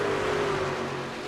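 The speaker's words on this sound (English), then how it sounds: "Mike Bearden looks like he has potentially some engine damage or whatnot." Truck engine in a stock-car racing video game, running with apparent engine damage: a steady, slightly rough drone with a low hum, close and continuous, no talk over it.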